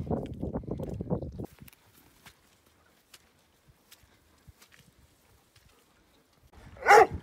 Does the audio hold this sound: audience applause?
no